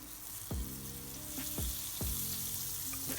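Butter melts in a hot pan on medium heat, a steady bright sizzle with several low thumps from the pan being handled, close and alone without voices.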